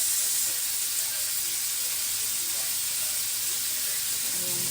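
Soy sauce sizzling over pork cubes in a hot pan, a loud continuous hiss of frying that holds steady and close for the whole stretch, with no talking.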